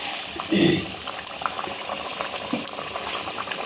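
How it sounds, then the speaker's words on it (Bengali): Spinach puris deep-frying in hot oil, a bubbling, busy seethe with small pops and a louder burst as dough drops in, close up, with a person's voice occasionally over it. "দেখুন তেলের মধ্যে ভেসে উঠছে পালং পুরিটা"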